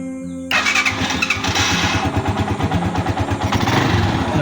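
A Rusi 150 motorcycle engine fires up abruptly after a short quiet moment and settles into a close, choppy, pulsing idle.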